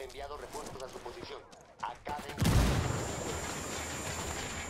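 Gunfire in Ghost Recon Wildlands, a burst of sharp shots breaking out midway into a loud sustained rumble of firing, after a stretch of talking voices.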